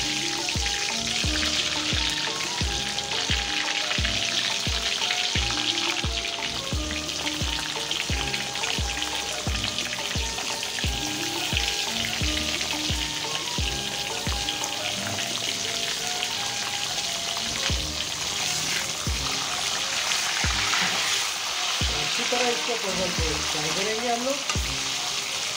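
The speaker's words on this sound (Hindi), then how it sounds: "तो हम लोगों का परवल रेडी है, उसको हम फ्राई करेंगे।" Pointed gourd (parwal) frying in hot oil in a village kitchen: a steady, dense sizzle and crackle, with occasional stirring or clinking, continuous and fairly close, with no talk.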